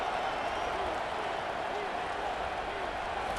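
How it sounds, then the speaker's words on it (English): Dense, steady roar of a stadium crowd in College Football 25 during a Kentucky vs Clemson bowl game, a constant wash of noise filling the whole stretch, with a voice faintly present beneath it. "The crowd is loud"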